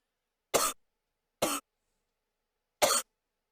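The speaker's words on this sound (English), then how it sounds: "somebody in the audience has a bad cough" An audience member coughs three times, short, sharp and separate, with a gap of about a second between each and no talking.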